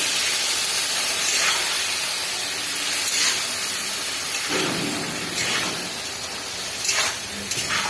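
Loud, continuous hissing and steaming as water hits spices frying for a fish curry in a hot pan, with surging bursts of sizzle rising and falling throughout.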